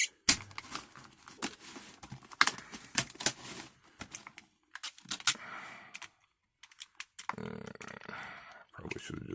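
Plastic blister packaging of a cordless screwdriver set being pried and torn open: close, irregular crackling, snapping and crinkling bursts with brief pauses, ending in a longer rustling tear.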